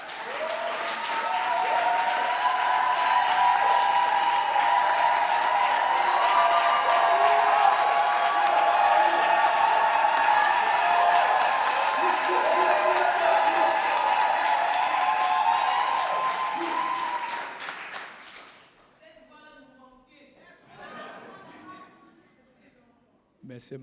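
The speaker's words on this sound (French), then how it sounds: "Nous allons acclamer très fort." A church congregation gathered for a Shabbat service bursts into loud, sustained applause and cheering for about eighteen seconds, then falls away to quiet with a few scattered sounds and a voice.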